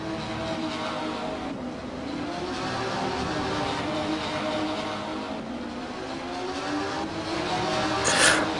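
Porsche GT3 Cup race cars in a sim racing game, a one-hour Spa race, with a steady engine drone and shifting revs that rise and fall continuously throughout, fairly loud with no talk over it.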